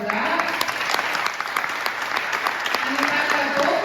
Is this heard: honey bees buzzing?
no